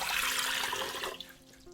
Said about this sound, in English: I'm going to use a pressure cooker, and I add 1 liter of water.